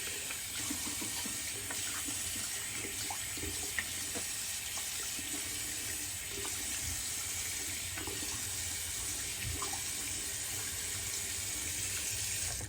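Water from a bathroom tap runs steadily into a sink during a post-shave rinse, a constant hiss with faint splashes and clinks throughout.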